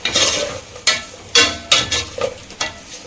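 Tomatoes with rock salt sauté in a pan for a kurma, a soft steady sizzle broken by several sharp scraping stirs, close and fairly loud, with no voices.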